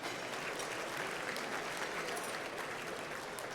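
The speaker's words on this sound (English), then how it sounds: "One more round of applause." An audience at an awards show gives a steady round of applause, a dense continuous clapping that holds at an even level throughout with no one speaking.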